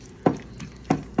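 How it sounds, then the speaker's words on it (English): Flour stirred into melted butter in a pan for Alfredo sauce, giving three quick soft scraping strokes against the pan under a faint sizzle, close and alone without talk. "as you can see, the flour's mixing in well with the butter"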